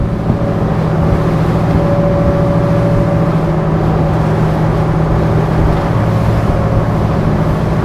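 SAY 52 motor boat cruising as its engines ease back toward 22 knots, a loud steady engine drone with rushing water and hull noise, continuous and close.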